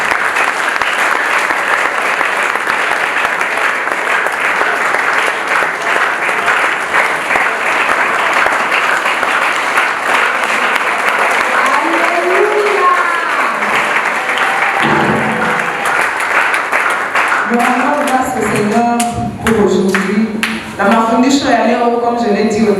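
A youth convention crowd applauding and cheering in worship of God, loud sustained clapping for most of the stretch, with raised voices and singing-like calls rising near the end.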